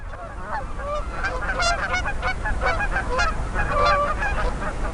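Canada geese in northern Canada honk repeatedly during courtship, a dense overlapping chorus of calls from several birds at moderate distance, steady throughout with no talk.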